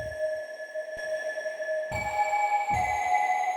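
Sustained synth tones in a melodic house style ring out with a long reverberant tail, the pitch shifting a couple of times, with no voices.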